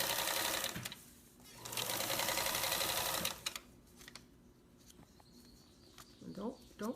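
A sewing machine bastes fabric close to the edge, stitching in two loud, close bursts separated by short pauses, followed by quieter handling and a few brief voice-like chirps near the end.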